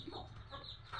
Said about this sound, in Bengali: এই মুরগি এভাবে ডাকে?